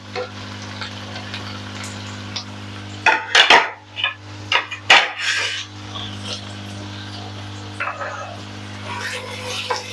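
Chicken goes into a pan of softened onions and is stirred, giving a cluster of loud scraping and rasping strokes against the pan over a low steady hum, then lighter intermittent scrapes.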